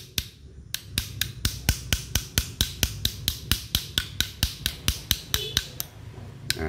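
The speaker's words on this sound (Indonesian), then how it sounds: "kita getok terus, jangan pakai besi, jadi bahan karet aja" A rubber mallet knocks on a stuck piston of a semi-hermetic compressor in a steady run of about twenty sharp, close taps, evenly spaced and fairly quick, with no talking.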